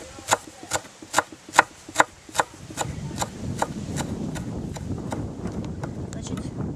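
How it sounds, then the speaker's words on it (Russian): A kitchen knife finely chops fresh dill on a board in a quick series of about ten sharp, close taps, then the rhythm gives way to softer scraping and rustling with a faint voice in the background. "Укроп нарезаю мелко."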